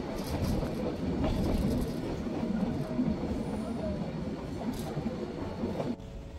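The Ooty toy train runs from Coonoor to Ooty with a continuous rumbling roll of wheels and carriage noise, steady and fairly loud throughout, without clear speech.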